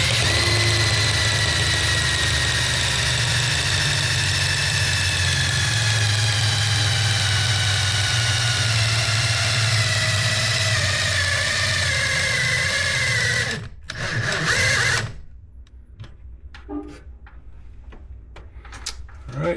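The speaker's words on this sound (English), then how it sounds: "you're going to drill it until the number that lines up with that notch we put the 0 on" A power drill steadily winds a garage door torsion spring during a spring replacement, running as a loud, continuous whir for about fourteen seconds before stopping abruptly, followed by a few faint clicks and handling noises.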